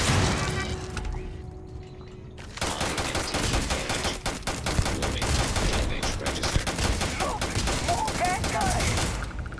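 Turret gunfire in Starfield, in bursts of rapid automatic shots crackling loudly after a short quieter lead-in. The shots keep rattling through a busy combat soundscape.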